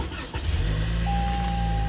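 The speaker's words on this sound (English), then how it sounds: "Turn your car on." A 2018-2020 Toyota Camry SE engine cranks and catches, then settles into a steady close idle hum with a faint electronic tone over it.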